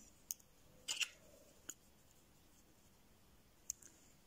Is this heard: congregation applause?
no